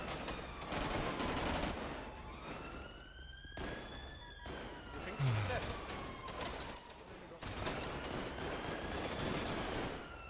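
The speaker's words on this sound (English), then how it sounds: "Shots! Shots!" Gunfire plays from a video on screens, heard as dense bursts of shots mixed with a wailing siren-like tone, with voices over it.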